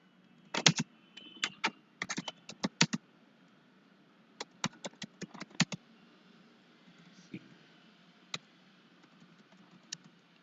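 Bursts of light, crisp keyboard typing: a quick cluster of keystrokes, a pause, then another run and a few scattered taps, close and quiet over faint background noise.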